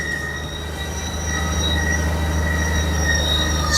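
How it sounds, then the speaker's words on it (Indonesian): Honda Goldwing 1800 motorcycle engine running at idle, a steady smooth low hum with a constant droning tone and faint high whine, close and alone with no talking. "suaranya seperti ini guys, mesinnya halus sekali."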